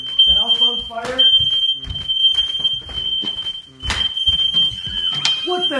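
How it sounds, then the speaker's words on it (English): A household smoke alarm set off by fog machine smoke shrills with a steady high-pitched tone across the whole stretch, while several people talk and shout excitedly over it. "The smoke, the alarm went off."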